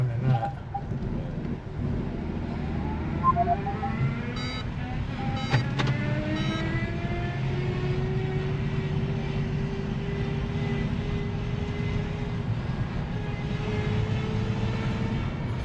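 A used car from a salvage auction idles steadily with its engine left running, a constant close hum and drone throughout with a few faint rising whines and clicks layered over it.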